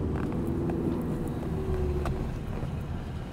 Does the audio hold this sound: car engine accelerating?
yes